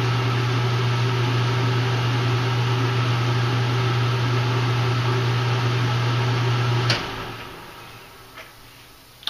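A home heating system hums steadily with a strong low drone, running alone for about seven seconds before abruptly shutting off and leaving a quiet room with a couple of faint clicks.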